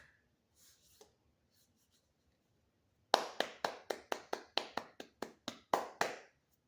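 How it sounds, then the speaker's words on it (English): A run of about a dozen sharp hand claps, close and loud, in a quick but slightly uneven rhythm after a few seconds of near silence. "let me hit them boys with the proper slash fancy clap"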